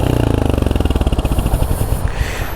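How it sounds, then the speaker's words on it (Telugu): Close, loud exhaust note of a Royal Enfield Hunter 350 at idle, a rapid even thump that loosens and settles toward the end, heard on its own without speech. "బాగానే ఉంది ఎగ్జాస్ట్ సౌండ్."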